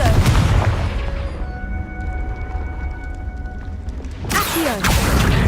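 A Confringo blasting spell in Hogwarts Legacy fires with a sharp burst, then a resonant droning tone hangs before a second loud booming explosion near the end.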